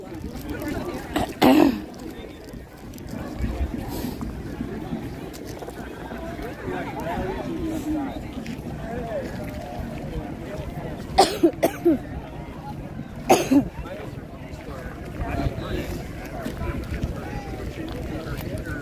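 A person with a lingering month-long cough coughs and clears their throat in short sharp bursts at an outdoor protest rally, close to the microphone, amid crowd noise and nearby talking.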